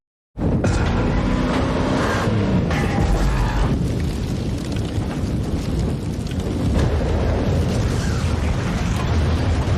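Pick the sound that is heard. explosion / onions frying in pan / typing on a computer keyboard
explosion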